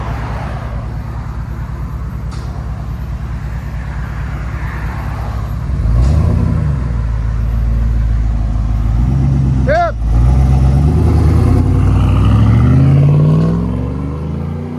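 A 2007 Cadillac Escalade EXT with a 6.2L V8 and Flowmaster Super 10 exhaust with resonator rumbles at a steady low idle, swelling into louder blips and revs, with a brief voice partway through.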